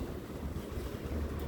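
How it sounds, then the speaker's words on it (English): Strong wind buffets the microphone outdoors during motorcycle work, a steady loud rushing roar with no pauses and no voices. "Oops, too windy."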